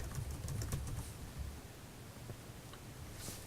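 Quick clatter of keys on a computer keyboard, a brief flurry of close clicks that thins to scattered taps against a faint room hiss.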